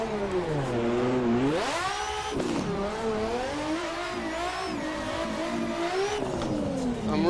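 A race car engine howls in Assetto Corsa during a drifting practice session, revving up and down in long sweeping waves, loud and close, with tire noise underneath.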